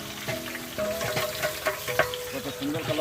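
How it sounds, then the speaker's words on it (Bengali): Fish frying in a pan gives a close, crackling sizzle with stirring scrapes. A voice speaks quietly underneath. "মাছ ভাজা কি হয়ে গেছে?"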